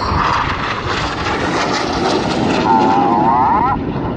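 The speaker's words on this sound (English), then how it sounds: "Look left for a lone jet." A lone Red Arrows display jet, Red 9, flies past at the Yeovilton air day, making a loud, sustained roar with a thin whining tone rising near the end, close and steady throughout.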